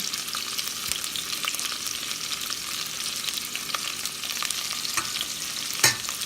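Garlic frying in olive oil in a pan, making a steady close hiss with scattered small crackles and a sharp clink near the end.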